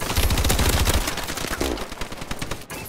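Two light machine guns fire together in Call of Duty Advanced Warfare, a loud rapid burst of close automatic fire. It breaks into scattered shots and distant gunfire before stopping near the end.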